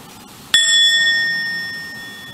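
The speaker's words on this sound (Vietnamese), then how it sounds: "mình để tiếng chuông đưa mình trở về với trái tim của mình" A meditation bell struck once in a Plum Village–style mindfulness practice, a sudden bright strike with long, steady ringing overtones that slowly fade over the remaining seconds, heard alone in a quiet room.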